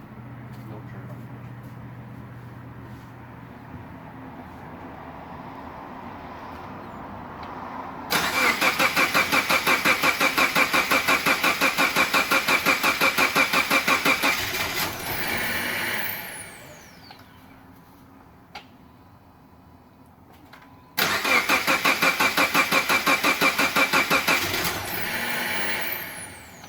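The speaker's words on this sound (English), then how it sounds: "I pulled the fuel pump fuse so that there's no fuel, and so that it cranks over and primes the whole oil system" A Subaru EJ255 engine is cranked with its fuel pump fuse pulled so that it turns over without firing: two long stretches of fast, loud, even starter whirring separated by a quieter pause, with hiss in the background.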